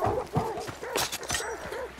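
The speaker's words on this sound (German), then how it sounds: "Oh nein, Hunde." Dogs bark and yelp in the video game Hunt: Showdown 1896, a burst of agitated, overlapping canine calls filling two seconds at moderate loudness against the game's ambience.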